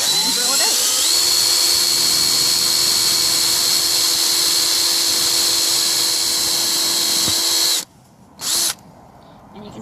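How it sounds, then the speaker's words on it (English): A Gesipa rivet removal tool drilling out a leaky rivet on a vintage Airstream trailer, a loud steady high-pitched power-drill whine held for several seconds, then cutting off, a short burst, and quiet. "You line it up on the head and drill it out."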